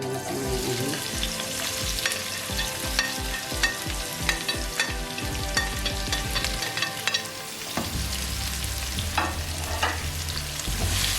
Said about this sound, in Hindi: इसे लाइट गोल्डन फ्राई मतलब कुक करेंगे।